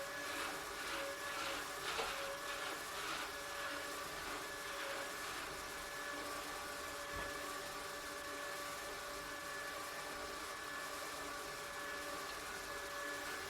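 A Brother extra-wide motorized drum carder runs steadily while carding fiber, giving a continuous mechanical whir with faint rhythmic brushing and a few brief clicks.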